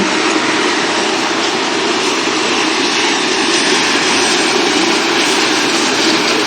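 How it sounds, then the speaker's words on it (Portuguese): A very long freight train led by three locomotives passes close by with a loud, continuous, broadband roar of rolling wagons and rumbling wheels that holds steady throughout. "Percebam que é um trem muito longo"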